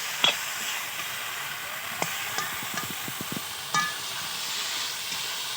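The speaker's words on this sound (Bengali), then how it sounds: "এই মশলার সঙ্গে ঢেঁড়সটা ভালো করে একটু কষিয়ে নিয়ে দেখো ভালো করে কষিয়ে নিচ্ছে এটাকে" Okra sautéed in spice paste in a pan gives a steady sizzling hiss, broken by scattered clicks and scrapes of stirring, close and fairly loud with no voices.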